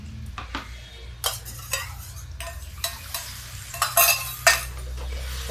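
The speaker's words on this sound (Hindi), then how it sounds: "गैस नहीं तेज करेंगे, इसको चलाते रहेंगे जिससे दही हमारा फटे नहीं" Spoon stirring yogurt into spice masala frying in a pan, a soft steady sizzle under repeated scraping and clinking strokes against the metal at an uneven rhythm, close and fairly quiet.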